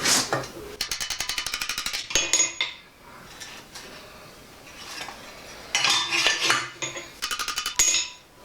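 Rapid rhythmic blows from a panel beating hammer on a Land Rover Series 3 body panel, bursts of quick ringing metallic taps separated by short pauses, close and loud.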